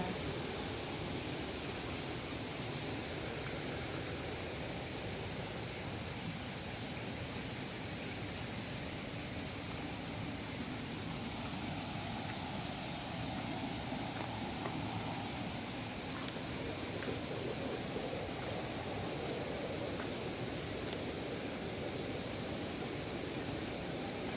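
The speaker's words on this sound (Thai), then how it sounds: "ตอนนี้เราอยู่ที่น้ำตกชั้นที่ห้า" Water pours steadily down the fifth tier of the Seven Little Sisters Waterfall in Saraburi, a continuous broadband rush heard close and even throughout with no voices.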